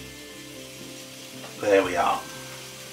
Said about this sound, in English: Six sausages sizzling in a pan